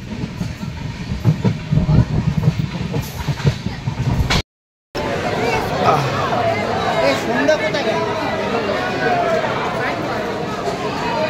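Tamralipta Express rolling on the rails near Digha, a steady rumble with clattering wheel noise, a brief dropout midway, and passengers chatting in the background.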